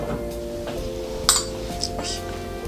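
Metal tablespoons clink sharply against a bowl a few times while scooping sugar, bright little taps over a steady kitchen hum, with a soft scooping scrape between them.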